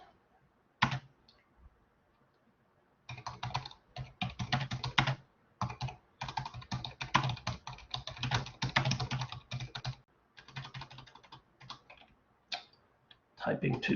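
Fast typing on a computer keyboard, dense bursts of quick key clicks close to the microphone, separated by short pauses and one isolated early tap.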